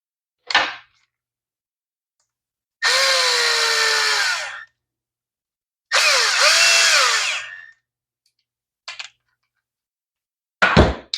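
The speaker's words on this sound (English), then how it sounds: "Let's get our screws back in." A power drill drives screws back into a cleaned lawn mower carburetor in three short high-pitched whirring bursts that rise as each screw seats, with brief clicks and handling sounds between them in an otherwise quiet room.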